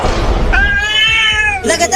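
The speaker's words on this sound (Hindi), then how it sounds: "नहीं तो एक कमीनी बिल्लियाँ मुझे बहुत काटेंगी" A cat gives one drawn-out, high, wavering meow that lasts about a second, loud and close, in a comedic sketch, with other vocal sounds just before and after it.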